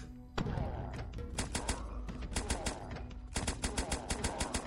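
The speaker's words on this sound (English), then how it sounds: "I guess we'll see how good the new machine gun is." A machine gun in the Dead Zed flash game fires in rapid, evenly spaced bursts, crisp and punchy, stopping briefly and starting again, with dull thuds mixed in.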